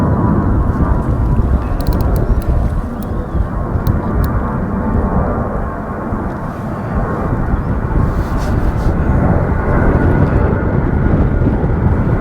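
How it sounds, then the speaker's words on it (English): Planes pass overhead at a lakeside fishing match, a continuous loud broadband roar with a low rumble that holds steady throughout, mixed with outdoor wind noise. "Planes going over"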